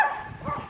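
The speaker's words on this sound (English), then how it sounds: "little doggy's outside" A small dog barks outdoors in cold, snowy weather, one or two short close barks followed by a softer whimpering yip.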